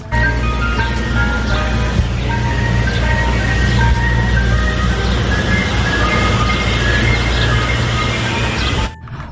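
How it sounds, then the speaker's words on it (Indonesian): A toy ice cream truck plays its tinkling electronic jingle loudly and continuously over a steady hum, then cuts off abruptly at the end. "Wow, yang ini mobil es krim ya."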